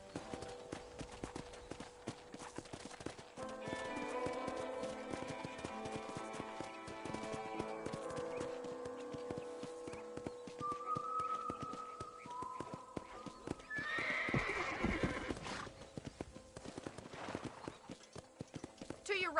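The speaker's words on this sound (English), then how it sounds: "Okay, let's see if you can still ride a horse." Horse hoofbeats clip-clop at a steady ride in Red Dead Redemption, with a brief neigh partway through, running continuously under ambient game sound and speech.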